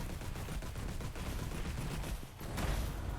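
Automated turrets fire in an FPS roguelike video game, a dense, continuous fusillade of rapid gunshots with a brief dip before the barrage swells again, loud and unbroken throughout.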